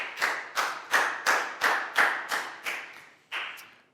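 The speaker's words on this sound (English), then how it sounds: "Big round of applause for Net." A Year 4 school class claps together in a steady rhythm, about nine sharp beats in quick succession with a short pause before the last one.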